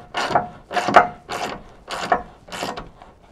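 A ratchet wrench tightening carrier bolts over a gasket on a B2 carrier, five separate bursts of rapid clicking at an even pace, close up with no voices.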